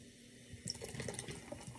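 Cherry-flavored bubly sparkling water poured from a can into a glass, a soft rising hiss of liquid and fizz that swells after a brief quiet start and stays steady, close and faint, with no talking.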